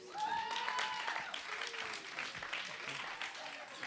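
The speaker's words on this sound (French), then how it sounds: "on peut l'applaudir bien fort" An audience applauds a quiz contestant who has just answered correctly, with steady, dense clapping throughout and voices under it.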